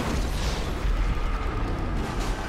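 A loud explosion in GTA Online, a rolling, rumbling blast with crackling debris that fills a couple of seconds with heavy low-end energy.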